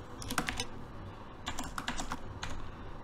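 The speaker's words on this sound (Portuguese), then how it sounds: "Eu vou digitar aqui, depois vocês só copiam, tá?" Fast typing on a computer keyboard while entering SQL commands, with two dense bursts of rapid key clicks separated by a short pause, close and fairly loud, no talking.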